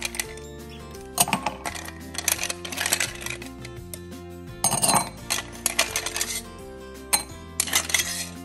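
Ice cubes for an espresso freddo clatter and clink in quick, irregular bursts, sharp and close, over steady background music.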